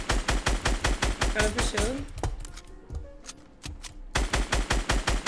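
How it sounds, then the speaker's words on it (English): Rapid bursts of automatic gunfire from Fortnite Battle Royale gameplay, loud and clustered at the start and end, with a brief quieter gap of scattered single shots between them while a player talks over the action. "I'm shooting him down."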